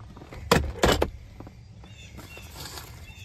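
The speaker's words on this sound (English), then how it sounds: "So you're gonna open up the glove box" Glove box of a 2004 Honda Accord being opened from the passenger side, giving two sharp close clicks and latch thumps in quick succession, followed by faint rustling and handling noise inside the cabin.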